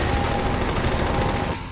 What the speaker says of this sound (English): Helicopters drop bombs and fire their turrets to prevent the escape